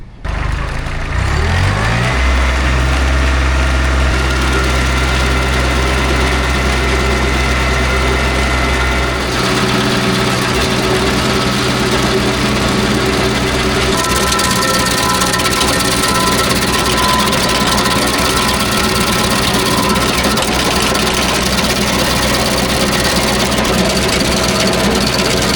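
A MECHMAXX SG24 PTO stump grinder driven by a tractor grinds into a stump, with a steady loud engine drone and a deep low hum that drops away partway through while the grinding noise continues close by.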